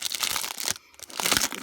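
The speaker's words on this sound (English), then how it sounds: "Sorry about the crinkly noise." Plastic packaging from a die-cut machine kit crinkles loudly and close up, with a brief pause in the middle before the crunching starts again.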